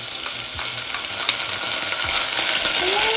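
Onion dropped into hot olive oil in a pot on medium heat for a pea soup, a loud, dense, continuous sizzle that swells slightly toward the end, with faint utensil clinks and no speech.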